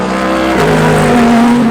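A Ford Mustang GT3 race car in GTD competition roars past on track, its loud engine note sweeping down in pitch as it passes close by, with no talking.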